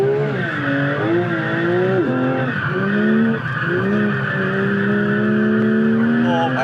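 A car drifting on a track, engine held high with a strained wailing tyre squeal that rises and falls continuously, close and loud throughout.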